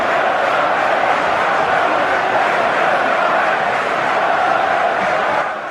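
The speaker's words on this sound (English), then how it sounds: "And you can hear the crowd's appreciation of that." Football crowd at an FA Cup fourth round match between AFC Bournemouth and Crawley Town roaring in a stadium, a loud continuous wash of cheering from thousands of fans, steady and unbroken before easing slightly at the end.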